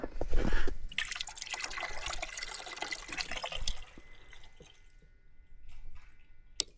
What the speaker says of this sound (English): Just put a couple gallons of diesel in it.